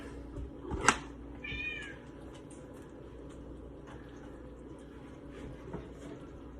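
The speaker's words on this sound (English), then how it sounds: "And the cat's gonna be loud now." A cat meows once loudly up close, followed by a shorter cry, over low steady background noise.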